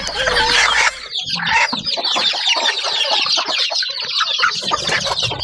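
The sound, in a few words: chicken clucking while laying an egg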